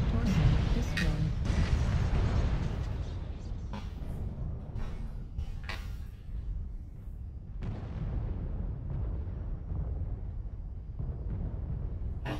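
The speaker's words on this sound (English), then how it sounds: "Artillery strikes suck." Artillery strike explosions in a mech combat video game: a sequence of deep booms and sharp blasts rumbling over a low continuous roar, moderately loud and spaced irregularly across the stretch.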